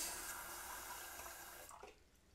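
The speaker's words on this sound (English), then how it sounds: "place the bottle underneath before you turn on the faucet so you don't miss the very start of the water stream" Tap water streams from a faucet into a plastic bottle, a steady broadband rush that holds for nearly two seconds before cutting off as the tap is shut.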